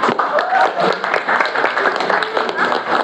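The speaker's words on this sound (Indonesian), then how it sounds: "Semuanya tepuk tangan untuk Aditya." A classroom of students clapping for a classmate, a dense burst of close claps that blend into one another, with a voice speaking over them.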